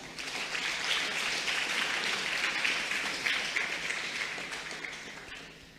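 Sustained applause from a church congregation at a sermon, steady and fairly faint throughout, without any speech.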